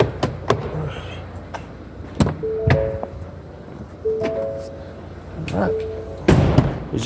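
The trunk lid of a 2018 Ford Fusion Titanium AWD is worked, producing a series of sharp thunks and clicks spaced several seconds apart, with brief tonal sounds between them close to the microphone.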